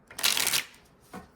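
A deck of tarot cards is riffle-shuffled in one crisp, close burst of rapid flutters, followed by a soft tap as the cards settle, with no talking.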